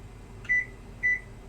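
A kitchen oven gives two short electronic beeps as its temperature is lowered from 450 to 400, each tone clean and brief, close by over a faint background hum.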